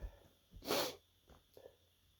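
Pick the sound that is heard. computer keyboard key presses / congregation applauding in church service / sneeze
sneeze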